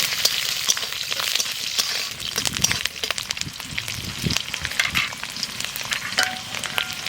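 Garlic frying in hot oil for pumpkin greens, a loud continuous crackling sizzle with sharp pops and occasional clatter close by.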